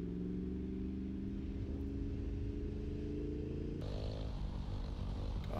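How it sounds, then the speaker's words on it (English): Moped engine during a wheelie, a steady low buzzing drone heard from nearby that shifts pitch partway through, with no talking over it. "we're doing a wheelie on a moped"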